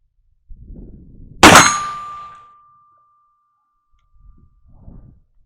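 A round lead ball from a muzzleloader strikes a steel target plate with one sharp, loud clang that rings for about a second, followed by faint rustling.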